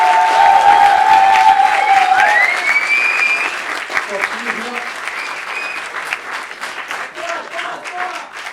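Audience applause at an evening event in honor of its organizer, with dense clapping and some cheering that starts loud and slowly thins out, while whistles or a short tone sound briefly early on.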